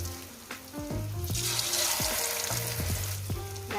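Banana fritters coated thickly in Lobo batter fry in hot oil with a steady close sizzle, a louder crackling burst rising midway as pieces drop in, with soft clinks and scrapes of stirring throughout.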